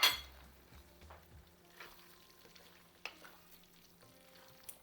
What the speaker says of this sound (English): put the coriander and stir it